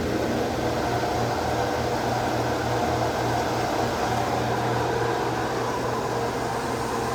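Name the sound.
fuel recirculating through auxiliary fuel tank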